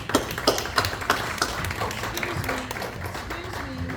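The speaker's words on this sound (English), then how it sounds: "Now we can clap." Clapping from a gathered audience at the close of an event, a few distinct loud claps early on, then a busier, blurred spread of hands with voices and murmuring mixed in.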